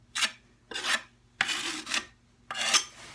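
A trowel scrapes tile adhesive flat across the back of a subway tile in four separate raspy strokes, each lasting about half a second, close and fairly quiet.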